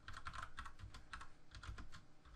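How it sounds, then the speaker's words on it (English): Fast one-handed typing on a computer keyboard, a close, quiet run of uneven key clicks with brief pauses between bursts. "I'm typing with one hand, so apologies if it's taking a little bit longer."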